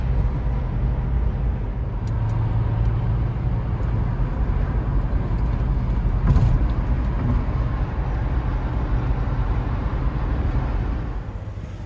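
A 1988 short-wheelbase Range Rover Classic in Beluga Black, rusty and low-mileage, rumbles over bumpy ground as a steady, loud cabin drone of engine and road noise with a few brief jolts and no talk.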